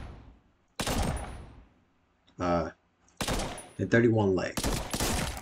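Gunfire from a weapon in a first-person shooter video game, loud close bursts of rapid shots in several separate strings, with a brief spoken phrase in between.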